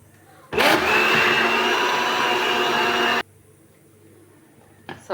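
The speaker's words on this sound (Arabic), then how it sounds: "كنخوي الزيت وغادي نعاود نطحنوه" A blender whirs loudly as it mixes chocolate cake batter with added oil, a steady close roar for about three seconds that then stops abruptly, followed by quiet and a couple of small knocks.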